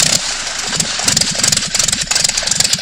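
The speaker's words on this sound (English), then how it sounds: "we had the first run leak check on the Tiger Project engine" Tiger Project aircraft engine on a test stand during its first run leak check, roaring loudly and steadily up close with pulsing, rumbling combustion throughout.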